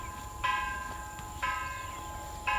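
A church bell rings on a Sunday morning near a cow pasture on Guadalcanal, sounding as three evenly spaced, faint, distant strikes with ringing tones over a low outdoor rumble.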